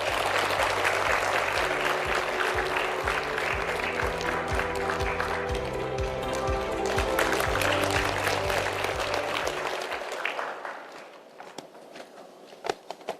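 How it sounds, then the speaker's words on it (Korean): Audience applause at a KBC carbon-neutrality forum on the Yeosu-Gwangyang national industrial complex, greeting National Assembly Speaker Kim Jin-pyo. Dense, loud clapping with steady low tones beneath runs for about ten seconds, then thins into scattered claps and fades. "힘찬 박수로 맞이해 주시기 바랍니다"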